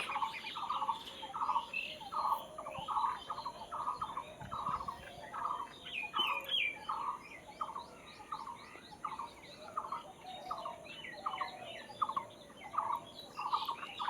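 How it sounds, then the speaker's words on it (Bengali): Village birds calling in the morning, a dense flock of rapid repeated gobbling, chattering calls at moderate distance, continuous throughout with no talking. "পাখিতে কি সুন্দর ঘুম থেকে উঠে ডাকাডাকি করছে"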